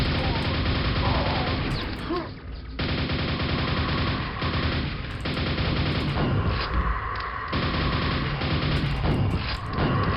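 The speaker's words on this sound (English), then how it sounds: "Hang on, you gave me a grenade launcher" Heavy explosive gunfire from a grenade launcher in the retro shooter Pak Attack: Brutalist Jam 2, loud and dense across the whole stretch, with repeated booming blasts and crashes layered under constant game music and action noise.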